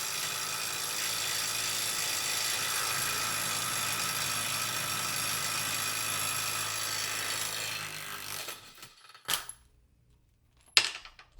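A Kobalt cordless impact wrench hammers a fastener in a torque test, a loud, continuous rattling burst lasting about eight seconds, then a stop followed by two short, sharp follow-up hits.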